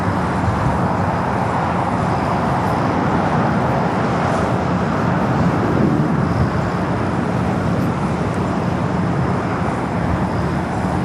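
Emirates airliner taxiing and turning onto a taxiway at Los Angeles airport, a steady broadband jet engine roar at moderate distance, continuous without pauses, no voices.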